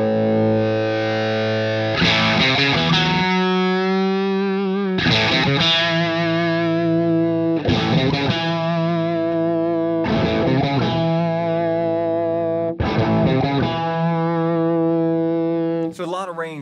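An electric guitar plays through the dirty channel of a FUCHS Mantis Jr. amp with the gain about halfway up. Heavily distorted sustained chords ring loud and close, each held for a few seconds before the next is struck.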